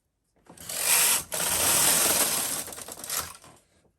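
A knitting machine carriage is pushed across the needle bed for one row from right to left, a continuous rattling mechanical whir that runs about three seconds with a brief dip partway, then fades out.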